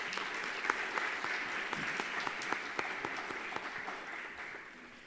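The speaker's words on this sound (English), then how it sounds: "And a round of applause to begin with." An audience claps steadily at the start of a Bharatanatyam arangetram dance recital in 2022, a dense patter of many hands heard indoors at moderate level that tapers slightly toward the end.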